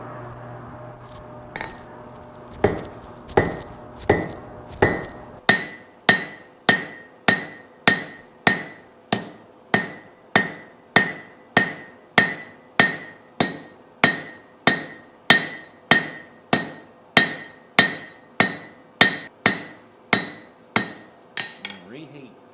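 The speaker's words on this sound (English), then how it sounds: "I'm going to pull it out and start flattening this slug on the end. We're going to make a leaf." A blacksmith flattens a hot steel slug on an anvil to shape a leaf, with a long steady run of sharp, ringing hammer strikes, close and loud, in an even rhythm with a brief pause near the start.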